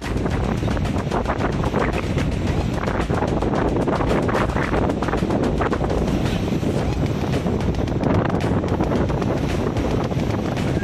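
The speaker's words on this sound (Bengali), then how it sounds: "বিশাল জোরে হাওয়া দিচ্ছে আর বিশাল জোরে ঢেউ দিচ্ছে" Strong wind and big crashing waves at Mandarmani beach merge into a loud, constant roar with heavy wind buffeting on the microphone.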